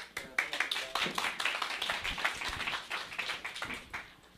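Audience at a Korean beginners' business training seminar applauding, many hands clapping in a brisk, dense patter that holds steady for about four seconds before thinning out.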